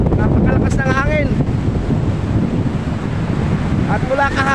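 Strong gusty sea wind roars into the microphone with a steady low rumble, while faint voices and whistling tones come and go.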